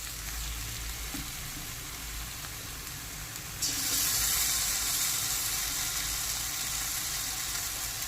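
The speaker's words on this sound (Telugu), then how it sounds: "ఇప్పుడు అల్లం వెల్లిగడ్డ పేస్ట్ వేసుకుందాం." Ginger garlic paste dropped into hot oil in a pan sizzles steadily, the frying hiss jumping louder partway through as the paste hits the oil, then holding a continuous bright crackle with no talking.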